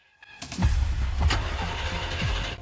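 An old car with carburetor trouble cranks and sputters as it tries to start, a rough continuous engine churn with a few louder knocks, close and fairly loud.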